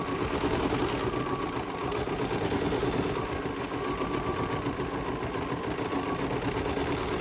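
A sewing machine runs at a steady, moderate pace while quilting the border of a Christmas mistletoe-themed quilt, giving an even, continuous mechanical hum with no talking.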